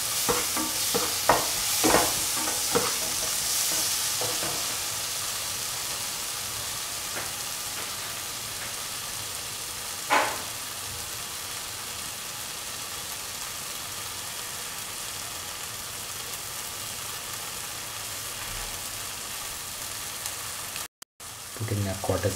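A spatula scrapes and stirs scrambled eggs with garam masala and salt in a pan for a dry scramble. A few distinct stirring strokes come near the start, then a long, steady sizzle follows with an occasional scrape.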